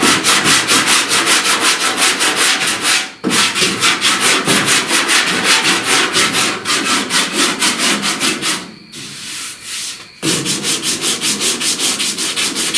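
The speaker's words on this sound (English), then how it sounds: "I will come out here and sand off all this paint" Paint is sanded off a truck cab corner during body work, a loud rhythmic rasping of fast back-and-forth strokes with two short pauses, close and alone.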